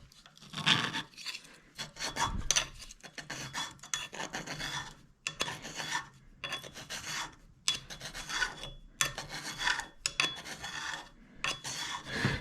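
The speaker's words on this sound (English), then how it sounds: "let's see if I can scrape on it with one hand." A hand scraper is worked hard across a piece of hard bronze clamped in a vise, giving repeated rasping, scratchy strokes in an irregular rhythm, close and fairly loud, with no talking.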